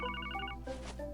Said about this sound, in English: Are we going to get a phone call?